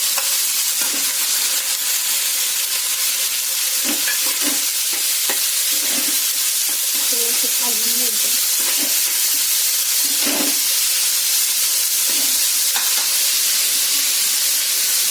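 Chopped cabbage stir-frying in a pan for a Marathi-style cabbage bhaji, with a steady broad sizzle and repeated soft scraping stirs, close and alone with no talk.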